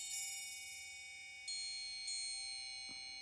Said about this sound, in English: I'll also use some triangles, more ringing metal here.